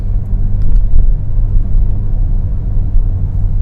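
A 2022 Volkswagen Virtus GT with the 1.5 TSI engine and DSG gearbox drones loudly from inside the cabin, a steady low rumble of engine revs that swells and eases slightly without a break.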